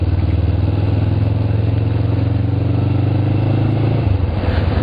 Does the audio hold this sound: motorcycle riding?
yes